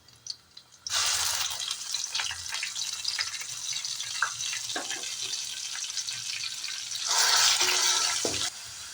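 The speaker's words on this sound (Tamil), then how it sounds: "வெங்காயம் பாருங்கள் நல்லா வதங்கிடுச்சு." Ground onion paste added to hot oil in a pan, bursting into a loud sudden sizzle that continues steadily with stirring scrapes and a louder surge near the end, no speech.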